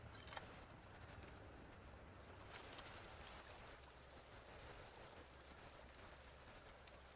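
Rain in the video game Death Stranding: a steady, even hiss of falling rain, very faint and continuous throughout, no talk.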